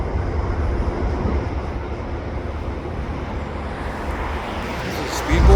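A switcher locomotive, number 904, working switching duty in a rail yard gives a steady, low rumbling drone with broad noise, continuous throughout and rising slightly at the very end, heard from a distance outdoors.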